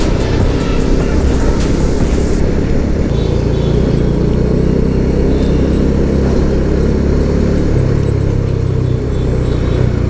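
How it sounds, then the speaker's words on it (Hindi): Heavy city traffic in Mumbai heard from a Dominar motorcycle in the thick of it, a loud, constant roar of engines and wind with rapid horn-like beeps near the start. "बहुत ज्यादा ट्रैफिक है भाई"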